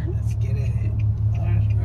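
A steady low road rumble and engine hum from inside a car cruising on the highway. The tone is even and constant, and a person talks over it throughout.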